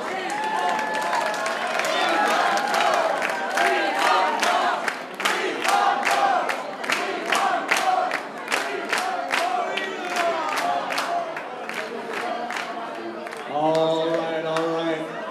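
Crowd at a swing dance competition final, the Lindy Challenge, breaks into loud sustained applause, cheers and whoops for the finalist couples, with dense rhythmic clapping throughout and a voice over the noise near the end.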